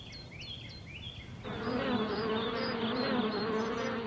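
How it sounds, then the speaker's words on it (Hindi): Honeybees buzz around a wooden bee box kept in a nursery for pollination, a dense steady drone that swells louder midway through as the swarm nears, with faint bird chirps overhead. "ये मधुमक्खी की पेटी है, वो पॉलिनेशन करने के लिए वो रखा है"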